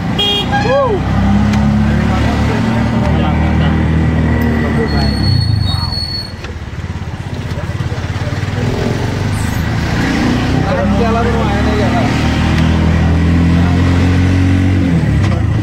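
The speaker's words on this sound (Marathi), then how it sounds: "चला आता बसल्या बघा कसं आम्ही रिक्षात" An auto rickshaw carrying passengers on a ride, its small engine droning steadily throughout with horn toots and passing traffic, while people talk over the noise.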